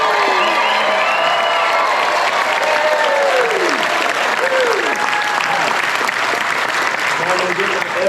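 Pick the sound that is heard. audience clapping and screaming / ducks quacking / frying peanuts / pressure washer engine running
audience clapping and screaming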